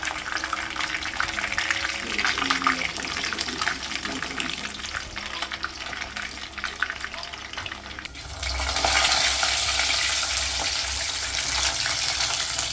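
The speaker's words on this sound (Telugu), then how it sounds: "ఇది కొంచెం గోల్డెన్ కలర్ వచ్చేదాకా వేయించుకోవాలి మనం" Masala frying in a pan beside fish pieces, producing a loud, dense, continuous sizzle up close that grows stronger and brighter partway through, with no voices over it.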